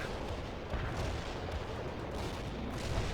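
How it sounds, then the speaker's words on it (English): Artillery barrage from the World in Conflict video game, a steady dense rumble of distant shelling and booms that holds at a constant loud level for about three seconds with no talk. "Want an artillery barrage?"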